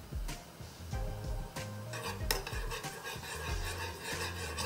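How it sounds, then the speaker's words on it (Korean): A utensil stirs tteokbokki in a pot, with soft scraping and clinks against the pot over a low simmering hiss, close and fairly quiet, no talk. "한번 저어주세요"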